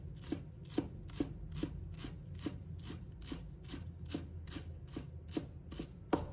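A knife chops a bunch of cilantro into short pieces on a board, with quick, evenly spaced taps in a steady rhythm over a soft background hum and no talking.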